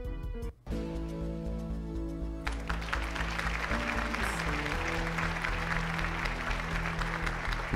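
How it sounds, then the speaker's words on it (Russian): Mission-passed jingle from the video game GTA Vice City, a short tonal musical phrase after a brief cut, followed by busier game audio and sustained notes, clear and fairly loud with no speech. "Это звук GTA Vice City, миссия пройдена"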